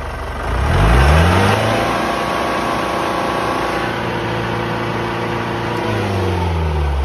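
The diesel engine of a 2002 Mahindra MDI jeep runs close by, revving up briefly, then settling into a steady, loud chugging idle with rising and falling engine tones.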